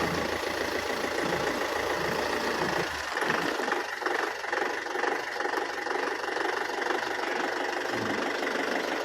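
A 2013 Kubota M6040SU turbo farm tractor idles with a steady, loud mid-pitched diesel rumble and a knocking throb that stays constant throughout, with no talking over it.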